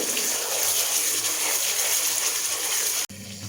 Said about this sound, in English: I will add half cup water for this.